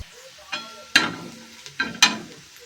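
Onion frying in a pan with chutney of onion-garlic masala and salt added, a soft sizzle under a few sharp scraping stirs of a spoon against the pan, close and fairly quiet, with no talking.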